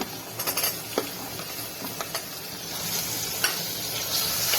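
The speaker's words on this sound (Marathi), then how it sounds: "मिक्स करून घ्यायच्या सर्व भाज्या" Mixed vegetables, peas and a large potato for khichdi are stirred in a pot with soft sizzling, a few light spoon clacks early on, then a steady frying hiss; no voices.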